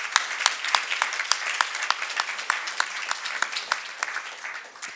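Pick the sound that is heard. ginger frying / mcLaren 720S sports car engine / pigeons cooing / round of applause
round of applause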